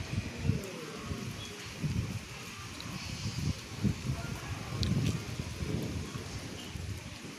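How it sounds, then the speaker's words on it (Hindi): Monsoon rain falls outdoors in a waterlogged spot, a soft steady hiss with gusty rustles and faint low thumps, quiet throughout. "देखिए बारिश में दिखा रही हूँ, बारिश हो रही है"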